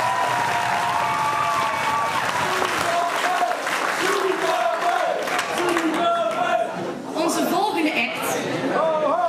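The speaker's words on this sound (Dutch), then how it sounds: "een groot applaus voor deze mevrouw." Audience at a school talent show final claps steadily and loudly throughout, with scattered shouts and cheers rising over the applause and some chatter mixed in.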